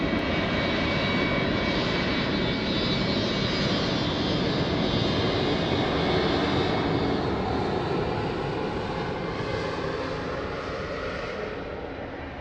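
A jet airliner takes off at Lisbon Airport with a loud, steady broadband roar that holds for several seconds, then slowly fades as the aircraft climbs away.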